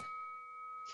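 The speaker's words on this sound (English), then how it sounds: "Then that damn bell had to ring." A bell rings with a sustained, steady tone holding through about a second, a brighter strike at the start and again near the end, fairly quiet and alone.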